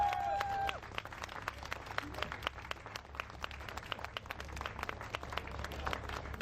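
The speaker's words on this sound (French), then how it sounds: "Je vous demande d'applaudir celui qui est également âgé de 20 ans." Applause for a 20-year-old rider at the awards ceremony of the Tour de la Manche 2014 cycling race stage in Donville, with scattered outdoor clapping over crowd murmur and a low hum, fairly distant and steady throughout.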